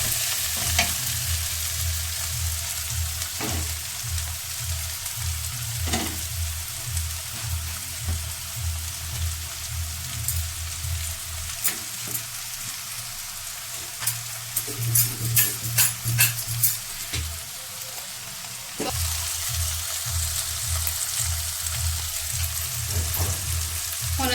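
Okra frying in a pan with steady, loud sizzling. A spoon scrapes and stirs through it in repeated bursts, with a brief quieter patch partway through. No one speaks.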